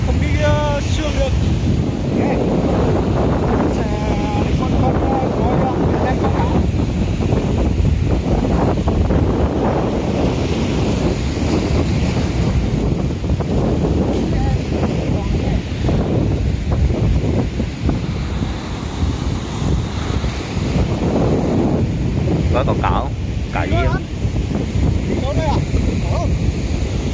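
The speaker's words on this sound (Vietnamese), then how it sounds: "Đây là khu vực bài biển Vĩnh Thanh." Wind and surf roll steadily at Vinh Thanh beach in Phu Vang, Hue, with gusts buffeting the microphone over a continuous wash of waves, while people talk intermittently over the noise.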